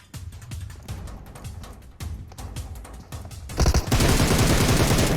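Rapid bursts of automatic gunfire in the shooter PUBG Mobile crack out in clustered volleys, then swell into a dense, continuous roar of fire toward the end.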